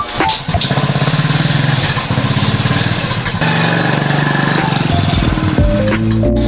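A small motorcycle engine runs steadily close by, a loud continuous buzzing drone that shifts slightly in pitch near the end.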